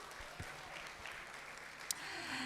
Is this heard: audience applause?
yes